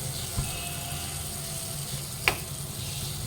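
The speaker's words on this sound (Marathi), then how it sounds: "ती चटणी मस्तपैकी खालीवर परतवून द्यायची" Kavath (wood apple) chutney sizzles steadily in a hot pan as it is stirred and turned, with one brief scrape of the spoon partway through; no voices.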